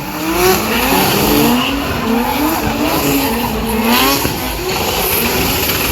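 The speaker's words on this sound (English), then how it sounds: "Spinning the rear wheels." Hot Wheels drift cars at a MotorEx drift show spin their rear wheels, producing a loud, continuous tire squeal with wavering pitch over a steady engine roar, close and dense throughout with no talk.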